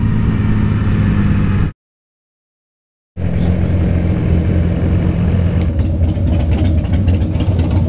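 A Yamaha R6 motorcycle engine runs loud and close while riding up to a dealership, a steady mid-pitched drone with a sudden brief gap of silence before it resumes.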